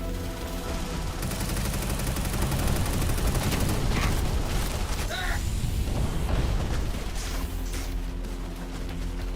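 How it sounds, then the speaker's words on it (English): Repeated mortar fire in a video game, heavy booming blasts and crackling impacts in rapid, overlapping succession, loud and dense throughout with a mechanical rattle underneath. "Those are mortars. It just has unlimited mortars."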